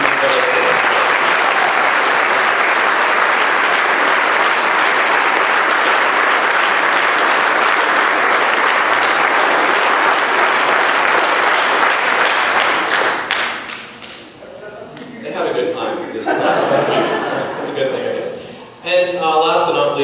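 Sustained loud applause and clapping from a large audience celebrating a graduating high school class of 2015 at a brass camp event, continuous for most of the stretch before fading into scattered claps and crowd noise.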